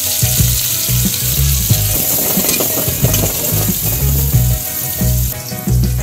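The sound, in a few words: onions and bay leaves frying in oil with spice pastes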